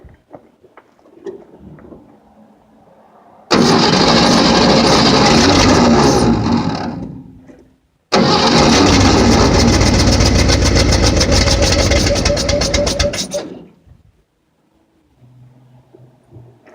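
A Ford 302 V8 cranks and fires up for its first start, running loud and close in two long bursts with a brief cutoff between them, then shuts down to near quiet.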